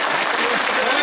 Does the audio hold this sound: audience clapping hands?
yes